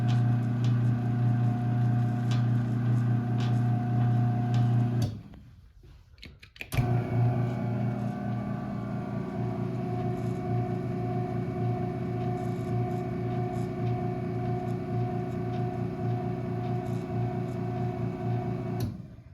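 A LiftMaster 1280R chain-drive garage door opener runs with a steady motorized hum and mechanical whir, briefly cutting out and then resuming at the same level.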